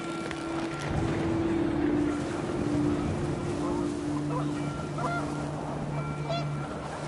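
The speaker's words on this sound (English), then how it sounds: "The wind picked up, and panicked geese appeared and quickly went." Geese honk in panic within the video game What Remains of Edith Finch, several calls rising over a steady wash of wind and water ambience, with a low droning tone running underneath.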